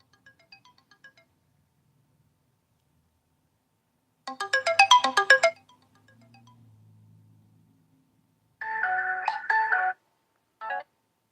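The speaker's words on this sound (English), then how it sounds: "There was such a phone call here." A phone ringtone plays in two loud bursts of a second or more each, separated by a pause with a low hum, and ends with a short final chirp. No one speaks.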